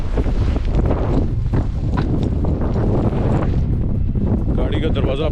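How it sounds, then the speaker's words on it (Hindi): Strong, gusty wind blusters around a car in Iceland's Westfjords, a loud, constant roar buffeting the microphone, with a person talking over it. "देखिए, इतनी तेज़ हवा है, बिलीव इट और नॉट, ये आपने कभी ऐसी हवा देखी ही नहीं होगी।"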